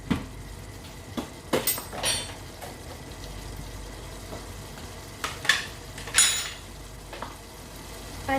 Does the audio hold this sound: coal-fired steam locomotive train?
no